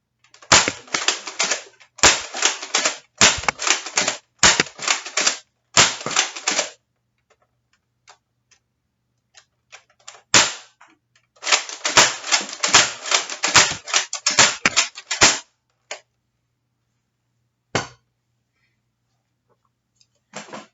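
A Dart Zone Conquest Pro foam dart blaster fires repeatedly in rapid bursts of sharp mechanical clacks, several quick strings separated by pauses, then a few isolated shots near the end, loud and close with no talking.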